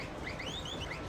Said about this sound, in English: So this vintage John Deere tractor here that I'm driving has a very unique horn.